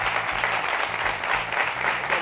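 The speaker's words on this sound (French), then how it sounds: "Amis jeunes, je vous demande de l'applaudir très fort." A studio audience claps loudly and steadily for a guest arriving on a youth programme, a dense, continuous wash of applause with faint music underneath.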